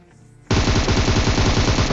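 Rapid gunfire in a shooter video game, with an AWM sniper involved, erupting suddenly after a quiet moment into a loud, close, continuous rattling burst of shots.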